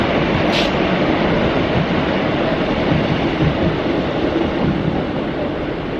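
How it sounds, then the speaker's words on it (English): A train passes close by a park-up spot, a loud continuous rumble and roar of rolling wheels and carriages that fills the whole stretch with little variation, with no voices. "there comes the train now"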